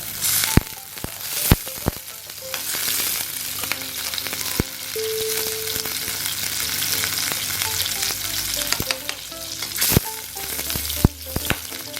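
Butter melting in a vessel on the stove for a white sauce, sizzling and crackling steadily up close, with occasional clinks and taps of utensils against the vessel.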